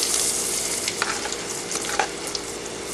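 Mushrooms fry in hot oil in a pan, giving a steady bright sizzle with scattered crackles and pops throughout, close and fairly loud.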